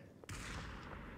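A sniper rifle shot in a video game, one sharp loud blast that cuts in abruptly and then rolls on in a long, dense, sustained echo.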